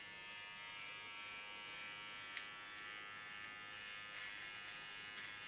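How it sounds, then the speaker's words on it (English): An electric hair clipper buzzes steadily and faintly while cutting a contour line in a hair tutorial, with a thin continuous hum and a few small clicks. "With the short clipper, I set out a real nice contour line"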